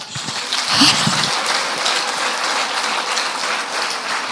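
A church congregation breaks into loud, dense applause, a steady close wash of many hands clapping that holds for several seconds with no one speaking over it.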